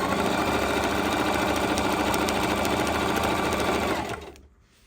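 A sewing machine set to a long basting stitch sews fabric for a dryer mat. It gives a steady, fast mechanical whir and needle chatter for about four seconds, then stops abruptly, with no talking.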